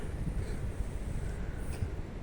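Gusty wind on a grey, blustery day outdoors buffets the microphone with low, continuous rumbling and no clear pauses.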